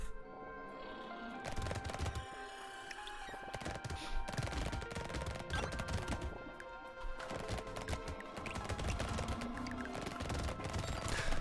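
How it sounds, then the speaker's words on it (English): Four machine guns fire continuously in the arena shooter Brotato, a dense, busy rattle of rapid shots layered with game effects and music, steady throughout. "I have 4 machine guns."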